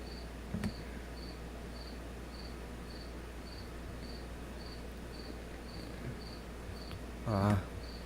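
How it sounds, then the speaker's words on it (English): Crickets chirp in a steady, evenly spaced pulse against quiet background hiss, with a soft thump near the start and a brief louder rustle near the end. "If you guys can hear these crickets chirping, very sorry about that."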